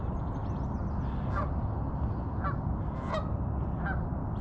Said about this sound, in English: Okay, Mr. Goose, what are you gonna do?